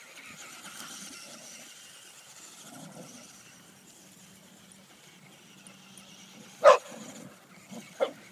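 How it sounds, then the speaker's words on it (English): A dog barks nearby in a few short sharp bursts near the end, following a stretch of quiet low outdoor background rumble. "why are you barking at me?"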